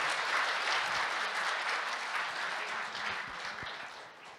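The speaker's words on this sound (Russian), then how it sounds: "Аплодисменты гроссмейстерам и хорошей игры." Audience applause for chess grandmasters at the opening of a rapid match, steady dense clapping from a large crowd that holds for several seconds and fades slightly toward the end.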